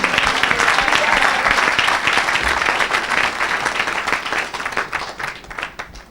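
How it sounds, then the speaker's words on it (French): A worship congregation applauds and acclaims Jesus Christ, loud sustained clapping from many hands that stays dense before thinning and growing more scattered toward the end, with crowd voices faintly mixed in. "Donne l'acclamation à Jésus-Christ, non?"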